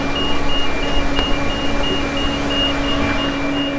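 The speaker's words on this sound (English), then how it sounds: "We're currently taking the screener for a walk." A Warrior 1800 tracked soil screener crawls across a yard with a steady diesel drone and a repeating beep, loud and continuous up close.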